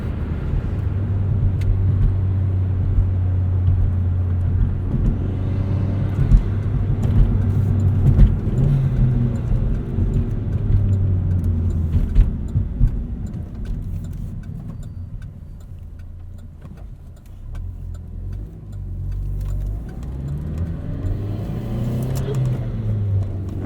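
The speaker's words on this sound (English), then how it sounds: "It's a joy to drive this car." Inside a moving 2009 Chevrolet Cobalt SS, a steady low engine and road drone hums continuously, with faint ticking and brief swells as the car accelerates, and no talking.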